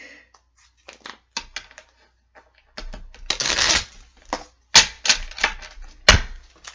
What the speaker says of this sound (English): Let me shuffle these again,